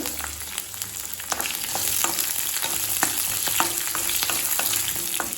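Small onions (shallots) sauté in a hot pan for coriander chutney, a steady crackling sizzle with intermittent stirring clicks and scrapes, close and alone with no talk.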